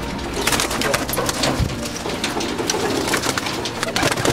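Pigeons in a loft coo continuously in a dense, close chorus of low throaty calls, with rustling and light scuffling underneath.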